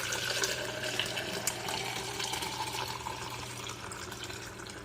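Milk is poured onto yogurt starter as one steady, continuous liquid stream lasting several seconds, close by and even in loudness, with no voices.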